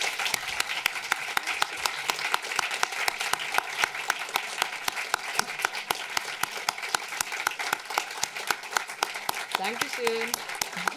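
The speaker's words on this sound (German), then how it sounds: "Großen Applaus, Caroline Link." Steady applause from an audience honoring film director Caroline Link after a film talk, dense rhythmic clapping filling the room throughout, with a brief voice near the end.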